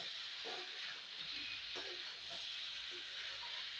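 Fried potatoes with jackfruit, prawns and spices cooking in a pan give a steady, close sizzling hiss, broken now and then by soft stirring scrapes, with no talking.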